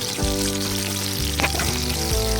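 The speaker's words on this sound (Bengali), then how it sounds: "এবার কিন্তু আমি ঝিঙে পোস্তের জন্য ঝিঙেটা আমি তেলে ছেড়ে দিচ্ছি। ঝিঙেটা একটু ভেজে নেব।" Ridge gourd pieces frying in hot oil in a home kitchen, a steady loud sizzle running throughout with a brief sharper crackle midway, no voices.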